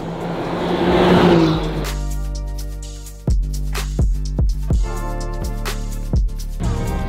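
A Maserati car driving on a race track swells into a loud, rushing engine pass lasting about three seconds, then music takes over for the rest.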